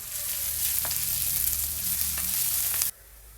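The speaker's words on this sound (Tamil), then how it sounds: "நல்லா ஒரு ப்ரௌன் ஆகிற வரை நம்ம இதை வறுக்கணும்" Crushed garlic frying in a pan until brown, a dense, steady hiss of sizzling oil with a couple of faint spoon scrapes, ending abruptly as the sizzle drops away.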